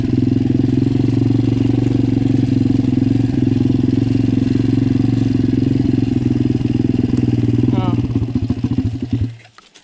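A motorcycle with a weak spark idles steadily with a low, uneven rumble and slight misfiring flutter, then sputters and dies away at the end.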